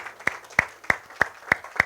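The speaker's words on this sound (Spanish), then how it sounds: "Ríndele un fuerte aplauso a Cristo." Six sharp, evenly spaced hand claps ring out close by during a church worship service, a slow steady rhythm of individual claps rather than a crowd.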